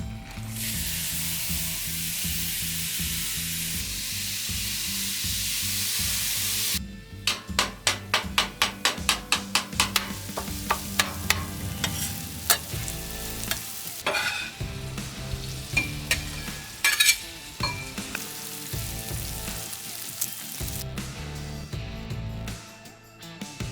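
Fajita cheesesteak meat frying in oil on a flat griddle: a steady loud sizzle, then repeated sharp metal spatula clanks and scrapes chopping and stirring over continued sizzling.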